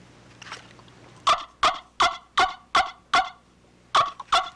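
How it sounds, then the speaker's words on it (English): A turkey wing bone call is sucked on to make a yelp, eight or nine sharp, evenly spaced raspy clucks heard close and loud against a quiet background. "just by kissing into it, you can make a fairly good yelp"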